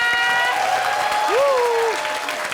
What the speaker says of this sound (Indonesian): kita kasih tepuk tangan dulu buat semua peserta